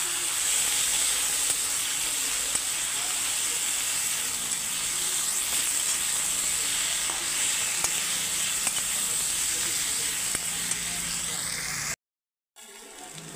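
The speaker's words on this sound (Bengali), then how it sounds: "আমি এখনও ভালো করে একটু কষিয়ে নেব মশলাগুলো দেওয়ার পরে" Ground cumin and coriander powder frying in a pan for a rohu fish curry with flat beans, potato and eggplant, a steady broadband sizzle that runs unbroken for about twelve seconds with faint stirring scrapes, then cuts out briefly.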